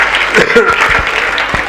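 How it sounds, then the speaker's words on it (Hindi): Audience applause at a Haryanvi comedy poetry show, a short loud burst of clapping with voices mixed in throughout. "तालियां एक बार जोरदार। हाँ, तालियां बजाते रहो।"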